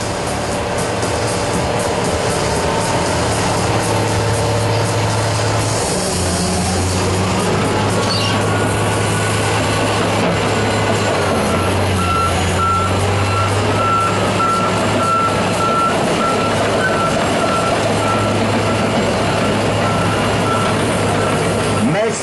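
A Dressta (LiuGong) PD25M Extra bulldozer works with a loud, droning diesel engine and a repeating reversing beeper, close by and continuous, with some speech faintly in the mix.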